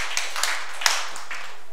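A conference audience at a money-skills talk claps briefly in a dense, wash-like burst with a few sharper individual claps, fading within two seconds.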